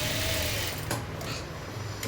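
A sewing machine stitches around the edge of a baby frock in matching thread, a steady, close, continuous mechanical whir with a brief knock partway through.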